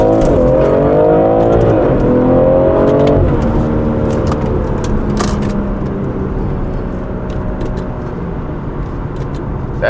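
A car with a B58 TU engine running a stage 1 map accelerates loudly on an empty road, the engine pitch climbing through a gear and then settling into a steady drone.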